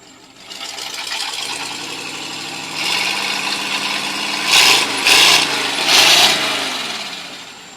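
A 1948 Ford 8N tractor fitted with a 1937 flathead V8 runs close by with a steady buzzing idle, then gives a few rising revs near the end.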